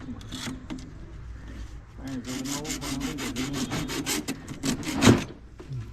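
A hand saw blade cuts back and forth through material in a village yard, the rasping strokes coming in a quick, steady rhythm up close, with people talking over the sawing.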